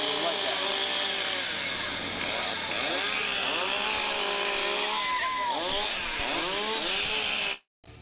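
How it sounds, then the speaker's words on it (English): A Stihl chainsaw revs hard at a timbersports competition, its loud engine note swelling and falling in repeated throttle sweeps over a steady roar before cutting off abruptly near the end. "We are STIHL, German-engineered chainsaws and landscape"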